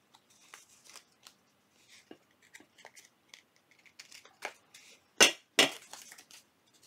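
Scissors trimming paper and lace for a junk journal envelope, a string of quiet close snips and rustles ending in two louder, sharper cuts, with no talking.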